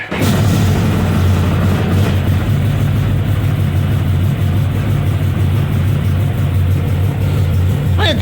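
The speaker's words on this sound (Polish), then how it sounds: "kład stał teraz tydzień czasu, zobaczymy jak mu idzie odpalanie" Stels 850 Guepard Trophy Pro ATV engine, 2021, starting cold at minus six degrees after standing a week, catching quickly and then running in a steady, loud, close rumbling idle.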